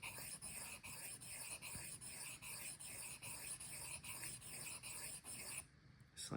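Steady rasping rub of a travisher blade being honed on a sharpening stone, working the hollow-ground back to remove the burr, repeated strokes close and continuous, then stopping near the end.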